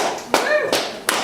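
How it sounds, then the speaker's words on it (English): Audience clapping breaks out at a stand-up comedy show, three short bursts of applause each rising sharply and then fading, with a comedian's voice talking in between. "appreciate the clap"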